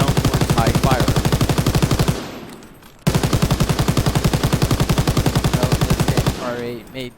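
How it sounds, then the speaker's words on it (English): Rapid, loud bursts of MG42 machine gun fire from a Call of Duty game: a sustained burst of about two seconds, a short pause, then a longer burst of about three seconds, ending with a mechanical rattle. "Next is the MG42, also known as Hitler's Buzzsaw."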